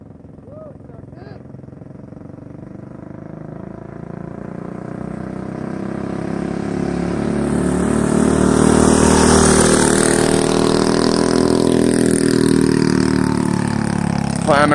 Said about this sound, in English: So we got homeboy Smiley on the bike doing something down there.